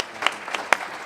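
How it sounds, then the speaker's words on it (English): Audience applause at a conference session, a fairly quiet patter of clapping with a few sharper individual claps standing out. "So please give him a round of applause."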